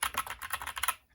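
Rapid, uneven clatter of keys being tapped on a GK61 60% mechanical gaming keyboard, a quick run of close crisp clicks for about a second before falling silent.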